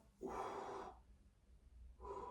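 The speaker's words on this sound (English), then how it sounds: "Breathing out." A person exhales audibly during a home bodyweight workout: a long, close breath out lasting under a second, a pause, then the start of another breath, soft and unaccompanied by talk.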